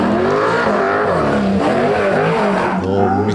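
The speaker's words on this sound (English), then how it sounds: "Sounds pretty good, doesn't it? Mick's Commodore." A Holden Commodore race car charges up a hillclimb course, its engine roaring loud and close with rising and falling revs through gear changes, a steady throaty drone throughout.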